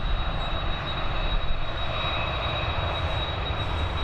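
A Ryanair airliner at Dublin Airport, its engines giving a steady, loud broadband roar that holds level throughout, with a thin constant whine running over the top.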